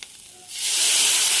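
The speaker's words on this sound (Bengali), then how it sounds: "ভাজা আলুগুলো দিয়ে একটু নাড়াচাড়া করে নিচ্ছি" Fried potatoes stirred into rice in a pan, a faint scrape giving way after half a second to a loud, steady sizzle of hot oil that fills the rest.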